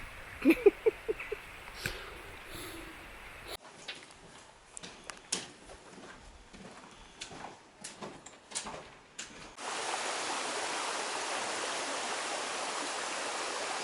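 Water trickles and splashes steadily in Gnar Burn, a small stream near Sluggyford on the Pennine Way, with scattered knocks and footsteps over it before the flow becomes a constant, fuller rush.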